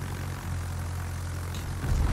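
Propeller plane launched from a cruiser in World of Warships, its engine a low, steady drone with a hum that swells slightly toward the end, heard alone without talk.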